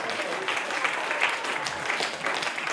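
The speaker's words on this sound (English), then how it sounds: "Give a big round of applause." A crowd applauds steadily throughout, a dense wash of clapping with no clear voices over it.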